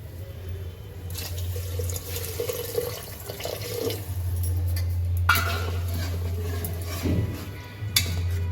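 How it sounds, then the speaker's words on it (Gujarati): Water poured from a bowl into a pot of rice soaked for an hour, for masala pulao. It sounds like two close streams splashing and gurgling, with small drips and a light clink of the bowl. "એ જ વાટકાથી આપણે આ પાણી નાખશું, આ 1 વાટકો। દોઢ વાટકો પાણી નાખવાનું."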